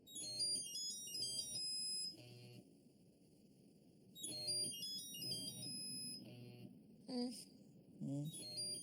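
A mobile phone ringtone plays in repeating melodic bursts, loud and close, with a short gap between rings and brief voices near the end.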